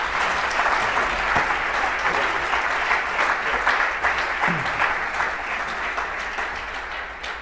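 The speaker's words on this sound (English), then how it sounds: "Can we please have a big round of applause for Lewis Carmichael?" An audience at a talk on head injury in rugby breaks into loud, sustained applause, dense clapping filling the room for several seconds and slowly tapering off.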